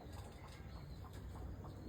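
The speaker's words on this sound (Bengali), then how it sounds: "আর পায়রা উঠছে।" A flock of pigeons lifting off, with faint, soft wing flaps in quick bursts, heard at a distance outdoors.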